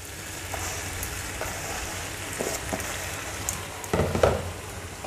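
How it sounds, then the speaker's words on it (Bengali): Shyama (foxtail millet) rice being stirred with masala and vegetables in a pan for khichuri, a steady low sizzle with soft scraping strokes that grow louder and busier near the end, no talking. "শ্যামা চাল দিয়ে মশলার সঙ্গে ভালো করিয়ে সবজি দিয়ে ঘুটে নিচ্ছি"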